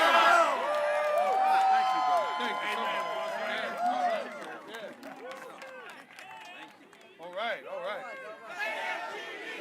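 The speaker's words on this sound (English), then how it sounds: "Don't that deserve another round of applause?" A crowd of union members at a rally for federal workers cheers, whoops and claps, with excited voices and shouts layered over scattered applause that surges and dips across the stretch.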